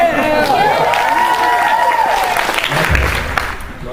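Audience applause and cheering at a VidCon 2014 Q&A panel, a dense steady wash of clapping with voices mixed in, holding loud throughout before easing slightly near the end.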